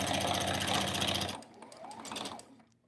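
A sewing machine runs loudly and steadily as it stitches across a zipper pouch, its rapid mechanical whir stopping partway through and giving way to a few quieter clicks and handling sounds.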